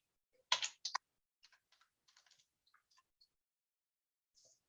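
A computer keyboard being typed on, a couple of sharp clustered keystrokes followed by scattered light, quiet taps with gaps between them, close and alone in a silent room.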